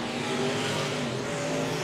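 Stock cars race around the track at Raceway Park (Interstate Speedway), their engines making a continuous, fairly distant roar with steady droning tones and no voices over it.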